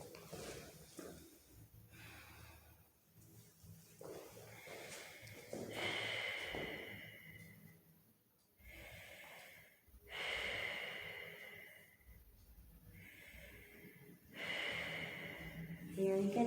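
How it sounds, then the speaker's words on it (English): Slow, audible breaths drawn in and pushed out during a yoga and Pilates flow while holding a half split, several breath cycles spaced a few seconds apart, fairly close and soft, with faint background sound between them. "Let's take about 3 to 5 breaths here."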